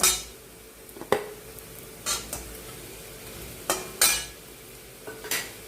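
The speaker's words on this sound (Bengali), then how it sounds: "আমি এখানে 2টো ম্যাগি নিয়ে নিয়েছি, দিয়ে দিলাম" Two packs of Maggi noodles go into a pan, heard as a string of sharp scrapes and clinks spaced a second or so apart over a faint low sizzle, with no one speaking.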